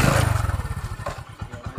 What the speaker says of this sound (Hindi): हमारी बाइक स्टार्ट है।